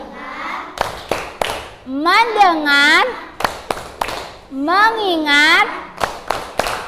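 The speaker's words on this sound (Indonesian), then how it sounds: "Coba tepuk fokus." A class of children do a rhythmic 'tepuk fokus' clapping routine, sharp hand claps alternating with sing-song chanted voices in a classroom, loud and close.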